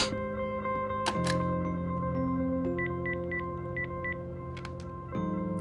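A telephone number is dialed in a short sequence of evenly spaced keypad tones over a steady line hum, close and clear, with no talking.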